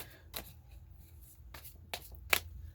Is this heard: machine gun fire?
no